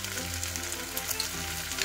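Anchovy fritter batter frying in a hot pan, a brief steady sizzle with bubbling crackle, close and alone.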